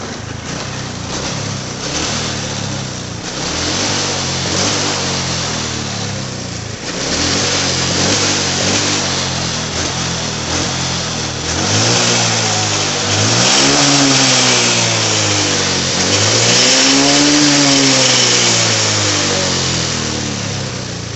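A Honda Supra X 125 motorcycle engine, being checked for a fault that makes it stall often, runs loud and close throughout, revving repeatedly as it rises and falls through several gears.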